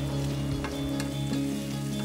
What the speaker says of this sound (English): I'm not frying them a lot,